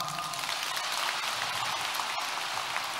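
Steady audience applause at a gathering in Paris, a dense, even patter of many hands clapping, moderately loud and unbroken, with no talk over it.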